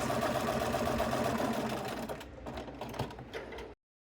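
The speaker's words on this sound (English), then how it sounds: "sew along each long edge, just right next to the edge to secure the folds" A sewing machine stitches along the long folded edges of a fabric strap for a trick-or-treat basket, running steadily and close for a few seconds, then slowing into a few uneven bursts before stopping abruptly.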